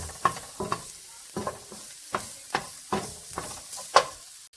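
Finely chopped garlic sautéing in oil for pork sisig, a steady sizzle broken by about ten regular scraping strokes of a spatula stirring the pan, close and with no talk.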